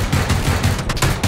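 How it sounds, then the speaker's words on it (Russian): Rapid bursts of gunfire in the battle game PUBG on a new map, several repeated volleys close together at steady loudness, no talk over them. "Не с одной стороны были выстрелы"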